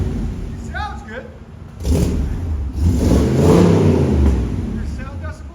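A 1985 Chevy K5 Blazer Z/71 with a 5.7L V8 and Flowmaster Flow FX exhaust revs loudly nearby, rising in two surges into a deep rumbling roar, with people talking over the engine.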